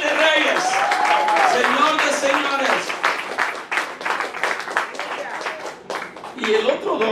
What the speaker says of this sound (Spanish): Dale fuerte aplauso al Rey.